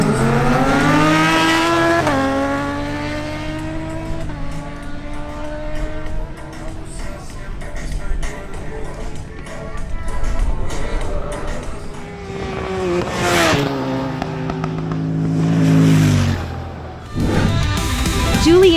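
A Honda X-ADV 750 scooter-style motorcycle makes a drag race run, its engine revving loud and near with rising pitch through gear changes, then rising again as it pulls hard down the strip.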